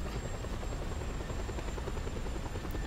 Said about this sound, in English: Where'd that helicopter go? There it is.